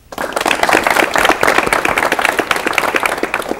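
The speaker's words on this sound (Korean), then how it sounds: "박수로 맞이해 주십시오." A studio audience on a 1985 Korean television talk show bursts into loud, dense applause that starts abruptly and holds steady as guests are welcomed.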